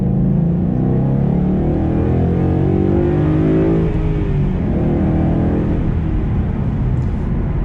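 A 2012 Ford Mustang GT with the 5.0 engine accelerates hard in second gear up a slight grade, the loud, continuous engine roar rising steadily in pitch as revs climb, then easing slightly near the end.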